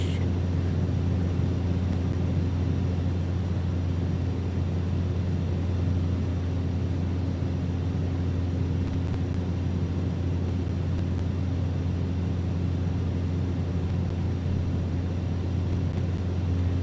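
Steady, loud drone of a Cessna C208 single turboprop engine in flight on a Caribbean cargo run, a constant low hum with even broadband rush and no breaks throughout.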